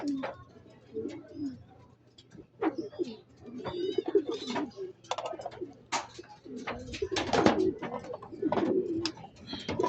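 Pigeons cooing in a loft at arrival time, several birds giving repeated soft throaty coos in overlapping bursts, close and moderately loud, with a person talking intermittently among them.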